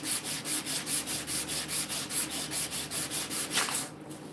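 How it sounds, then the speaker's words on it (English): Sandpaper of 400 grit rubbed back and forth over a surface in steady, even strokes, about four per second, close and alone, stopping near the end. "So I use the 400 grit just to kind of flatten her out a little bit."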